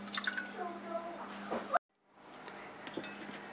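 Water poured into vinegar in a home kitchen while preparing brine for canning green beans: a soft, close trickle and drip that stops abruptly midway, then resumes faintly.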